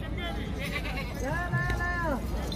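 A beetal goat at a livestock market in Bahawalnagar gives one drawn-out, wavering bleat, standing out over a constant background of crowd chatter and outdoor noise.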